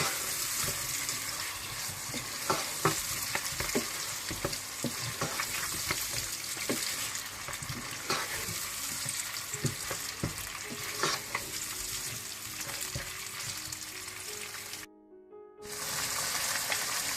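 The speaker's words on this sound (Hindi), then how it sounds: "टमाटर को भूनने के बाद आप इसमें गोश्त मिला लें।" Steady sizzling and frying as meat cooks with tomatoes in a pot, with scraping stirs and occasional clinks, continuous and close, with a brief silent gap near the end.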